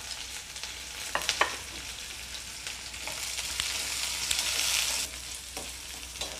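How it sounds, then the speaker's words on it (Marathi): Sliced onion and curry leaves frying in a pan with cumin, a close steady sizzle that swells toward the middle, with a few scraping stir strokes and small clinks. "उभा चिरलेला कांदा घालायचा आहे आणि कांदा आपल्याला 1 मिनिटभर परतून घ्यायचा आहे"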